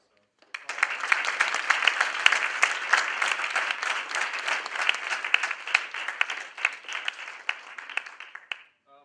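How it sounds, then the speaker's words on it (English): Applause from the audience at a meeting: about eight seconds of dense, steady clapping that begins suddenly and stops abruptly. "I think we owe a big round of applause to Tom and all the folks that helped out"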